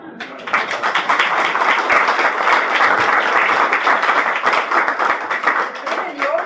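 Sustained audience applause fills a hall, dense and steady clapping from many hands throughout.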